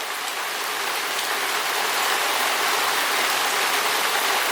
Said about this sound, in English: now I'm just waiting for the rain to pass